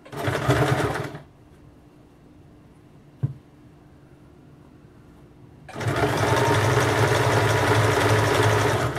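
A sewing machine stitches piping on a simple-pattern blouse in two loud, steady mechanical bursts, one short at the start and a longer one at the end, separated by a quiet pause with a single click.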